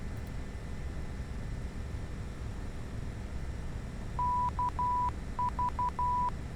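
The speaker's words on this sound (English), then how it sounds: "we can listen up to this ADF. So if it gives us some sort of Morse code, it's actually picking up the signal, right?" An ADF radio receiver in a Douglas DC-3 in Microsoft Flight Simulator X picks up a navigation beacon's Morse identifier: a steady beeping tone in short and long pulses that starts partway through over a constant engine drone.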